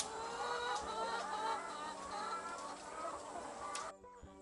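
Several chickens cluck and chatter together in a busy coop on a chicken farm, a steady overlapping murmur of hen calls before it cuts off.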